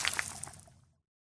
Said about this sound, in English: Elephant Joe spouted water all over the flames.